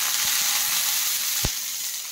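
Salted eggplant slices fry in oil, giving a steady, even sizzle from near the pan, with a few soft knocks and one clearer tap partway through, and no one speaking.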